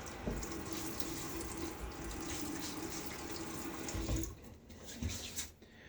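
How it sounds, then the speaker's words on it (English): Water runs steadily from a bathroom sink tap, a continuous close hiss with splashing as hands scoop it onto the face, cutting off near the end with a few drips and handling noises. "A little splash on the face."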